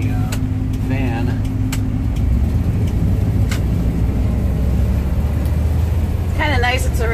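A 1995 GMC box truck on a rainy test drive gives a steady low engine drone and road rumble from inside the cab, while someone talks over it.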